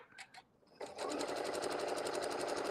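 A sewing machine quilting fabric starts after two brief knocks, then runs at a steady fast stitching rhythm, close and loud without talk.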